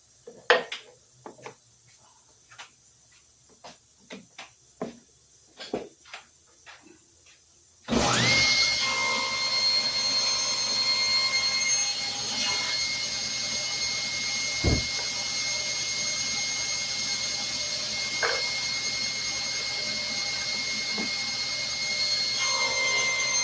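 A saw starts up and runs loud and steady through a wood blank guided by a crosscut sled with a clamped spacer, after several seconds of quiet clicks and clunks from clamping and setup.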